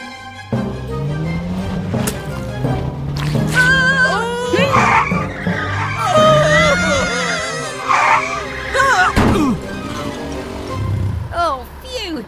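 A cartoon car races out of control with its accelerator stuck down by bubble gum, tires skidding and squealing loudly under a whining engine, mixed with excited character voices and music.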